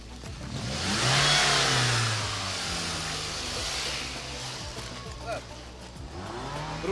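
A car engine fitted with a hydrogen-assist system is revved, rising in pitch and then settling into a steady mid-range drone, with people talking over it.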